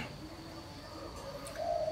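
Spotted dove (tekukur) giving a short coo near the end of a brief stretch of quiet outdoor ambience, faint and close, with no talking over it.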